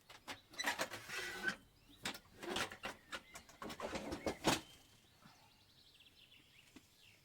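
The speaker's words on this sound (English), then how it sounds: "The metal on metal scraping coming up." Harsh metal-on-metal scraping from sewing or ironing work, coming in a run of loud, rasping strokes for about five seconds before fading to a quieter hiss and faint clicks.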